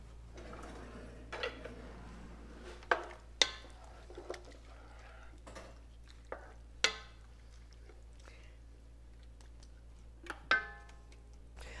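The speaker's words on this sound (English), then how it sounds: "now we're going to stir all of that up" Sauce stirred in a pot, spoon scraping and knocking against the sides in scattered clicks and brief taps, fairly quiet over a steady low kitchen hum, no talking.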